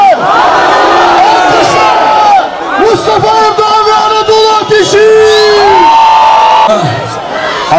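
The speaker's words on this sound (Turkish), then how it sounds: "Alkışlarla Mustafa Erdoğan ve Anadolu Ateşi." A loud crowd at a snow festival in Hakkari cheers and whoops with bursts of shouting, while a voice booms over a microphone through much of it.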